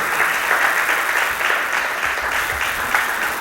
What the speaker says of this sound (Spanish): ¿Quién le da un aplauso a él en esta noche?